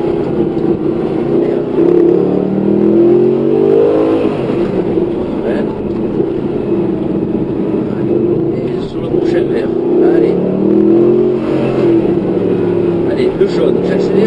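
A Mercedes-Benz car on the Lohéac track accelerates hard with rising engine revs, then eases off to brake, the motor loud and steady beneath an instructor's continuous French coaching.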